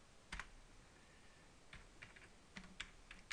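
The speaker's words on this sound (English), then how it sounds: "I have to type it down." Typing on a computer keyboard while entering a Nagios admin user and password. A few quiet, close keystrokes arrive in short irregular bursts, with no voices.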